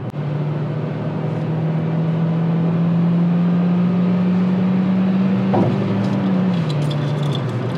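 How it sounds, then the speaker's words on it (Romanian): A Toyota Auris with an automatic gearbox revs hard under kickdown acceleration. The close engine drone climbs steadily, then drops sharply as the transmission shifts up near the end. No one speaks. "Ia, dă-i un kickdown."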